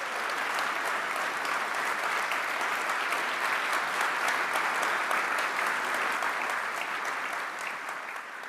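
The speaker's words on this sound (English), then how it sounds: "Could you please join me in giving a rousing applause, a very grateful round of applause to Ben Solee, Jason Claiborne, and Scott Moore" An inauguration crowd gives musicians a long, even round of applause, dense and continuous throughout, easing off a little in the last second.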